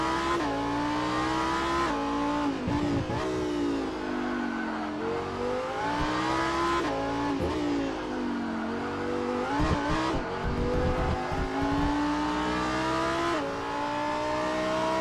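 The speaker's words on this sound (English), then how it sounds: "Switching to Daniel Kirby's onboard in the number 201 Lamborghini STC" Onboard a Lamborghini Super Trofeo race car at Detroit, the engine roars loud and close throughout, its pitch rising through each gear then dropping with upshifts and braking, with a few brief tire scrubs.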